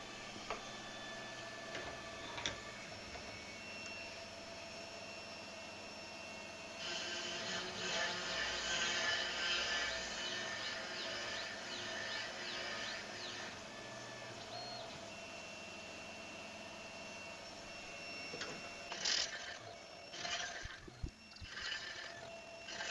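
Lathe or boring machine cutting holes to 5 1/8 inch in brass puzzle pieces, a steady mechanical whir with tonal hum that grows louder in the middle, then scattered clanks and handling knocks near the end.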